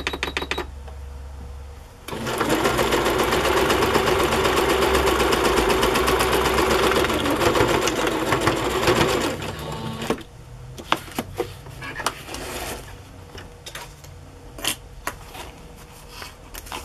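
A sewing machine stitches a pocket onto scrapbook paper for a cookbook journal, a fast, steady mechanical whir with a rapid needle rattle for several seconds, then stops and is followed by scattered paper rustles and handling clicks.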